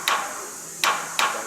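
A hammer strikes a stud bolt on a compressor three times, sharp metallic taps close by with short ringing decays, spaced unevenly.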